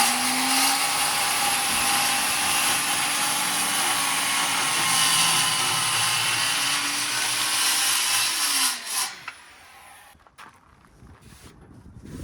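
A power tool saws through the wooden edge of a desk during a camper shell build in a truck, a loud steady cutting drone running continuously for about nine seconds before stopping abruptly, followed by quieter clatter.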